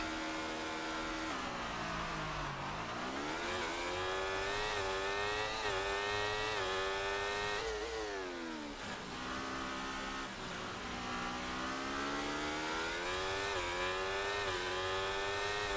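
Race-car engines from the F1 24 video game rev and shift repeatedly as cars launch from the grid, loud and continuous with rising and falling pitch sweeps, no talking.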